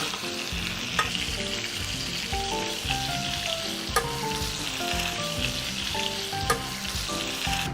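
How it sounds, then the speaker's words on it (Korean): Lamb steak frying in a pan with butter and herbs, a steady close sizzle with frequent sharp clicks and occasional louder pops, alongside musical tones playing throughout. "거의 다 익을 때 허브 넣고 마찬가지로 버터 안 타죠"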